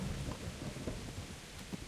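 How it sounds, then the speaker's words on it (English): Heavy rain pours steadily in the medieval RPG Kingdom Come: Deliverance, a dense, constant wash of downpour with low rumbling underneath, heard alone without voices. "It's raining really hard right now."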